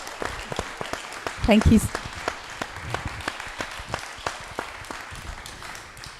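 An audience at a climate justice and ecocide law event applauds, giving a steady patter of many hands clapping that rises briefly, while a voice speaks over it.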